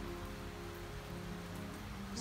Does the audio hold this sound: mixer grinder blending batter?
no